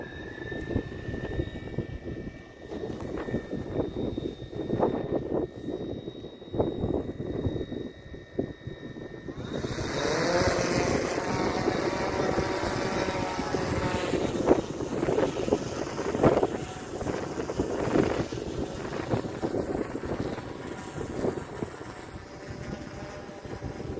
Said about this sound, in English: we're going to push the joysticks to the inside corners and the props turn on